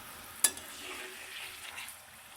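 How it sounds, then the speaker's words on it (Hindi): Kaleji, beef liver, frying lightly in a pan gives a soft, steady sizzle after one sharp clink of a utensil, quiet and close with no voices. "कलेजी हम इसमें डाल देते हैं। इसको हमने हल्का सा फ्राई करना है।"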